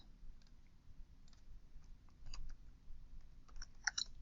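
Sparse, faint clicks of a computer keyboard in a quiet room over a low hum, a few keystrokes at a time, with a quick flurry near the end.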